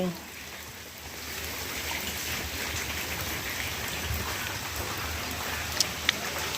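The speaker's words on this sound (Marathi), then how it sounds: "इतक्याच्या इतक्या तेवढा पाऊस आला बापरे किती भयानक" Heavy rain pours down on a farm during the soybean harvest, a steady, dense hiss of drops that holds level throughout, with a couple of sharp knocks near the end.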